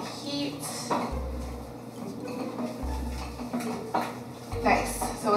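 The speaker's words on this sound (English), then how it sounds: "we're just going to vigorously stir" Dough being stirred vigorously in a pot on the heat, with clattering scrapes and knocks of the utensil against the pan, repeated in bursts under background noise and talk.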